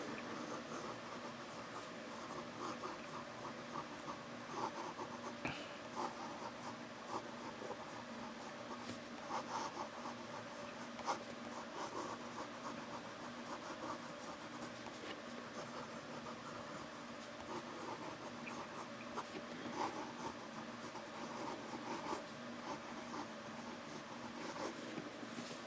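A Montblanc Friedrich Schiller limited edition fountain pen writing on paper, its nib giving a faint, continuous scratchy rub close to the microphone with no talking.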